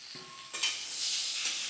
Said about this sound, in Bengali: এবার এটাকে নাড়ব, ভালো করে এটাকে আমার ভাজা ভাজা করতে হবে।